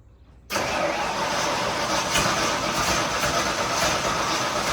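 After a brief quiet moment, a 1982 Ford Bronco with a custom 3-inch exhaust exiting at the quarter panel fires up and runs loud and close, a rough, throaty idle rumble that holds steady.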